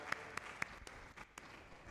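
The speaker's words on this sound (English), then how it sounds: "Let's clap for our panelists" Sparse, faint clapping for panelists at a national science summit, a handful of distinct claps spaced apart over a quiet room rather than a full round of applause.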